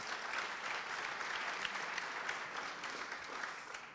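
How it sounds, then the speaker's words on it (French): A conference audience applauds a speaker after a panel contribution on sobriety and a peace economy, a steady, fairly faint wash of many hands clapping that holds for about four seconds. "Je pense qu'on peut l'applaudir."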